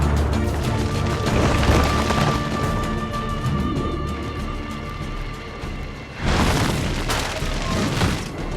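Firecracker-like booms in Assassin's Creed 2 form a loud, continuous rumbling blast that swells into a stronger burst near the end, with no talking over it.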